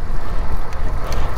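Loud, gusty headwind buffets the microphone during a ride in rough, uneven rumbling pulses, with no voices heard.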